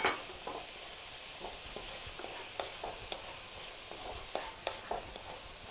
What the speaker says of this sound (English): You've got to keep mixing this.